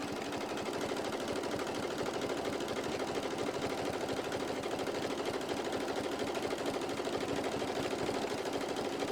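A sewing machine runs continuously in a fast, even rattle of stitches as it sews around fabric, close and steady without pauses or voices.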